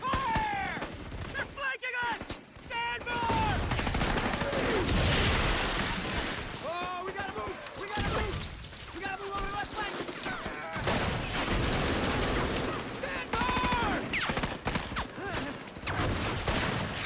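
Dense, sustained gunfire and explosions from a World War II Pacific battle drama set on Guadalcanal, with loud overlapping rifle and machine-gun bursts, booms and shouted voices filling the whole stretch with little letup.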